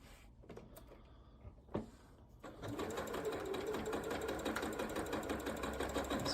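A sewing machine stitches quilt block pieces, starting after a few faint handling taps and running steadily and close for the last few seconds with a busy mechanical whir.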